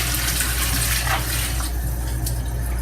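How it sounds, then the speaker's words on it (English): Tap water pours steadily into a cooking pot to cover pork neck bones, a continuous close gushing fill with no pauses and no talking. "I am just adding my water and I'm going to fill it up to cover the meat."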